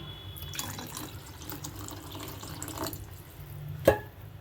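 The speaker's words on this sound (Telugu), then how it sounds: "తగినన్ని వాటర్ అయితే పోసుకోవాలండి" Water poured into a pan of coconut and raw tamarind curry, a soft running splash and trickle near the pan, ending with a brief sharp clink.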